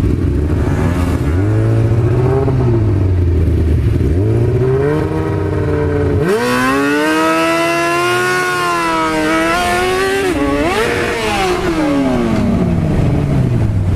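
Motorcycles revving and accelerating hard while racing to a white line, engine pitch rising and falling through several gear changes, loud and close throughout with no talk.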